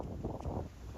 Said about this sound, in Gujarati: ફૂલ પવન આવ્યો